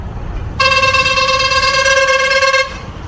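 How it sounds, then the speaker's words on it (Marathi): A loud, steady truck horn sounds once in a single blast of about two seconds, close by, over low road rumble on a ghat road toward Omkareshwar. "त्याला सांगितलं एवढा हॉर्न मारतो"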